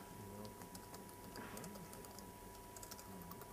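Rapid, uneven keystrokes clatter on a computer keyboard during a live keynote at a developer conference, soft and close under a low hum, with a faint voice in the background.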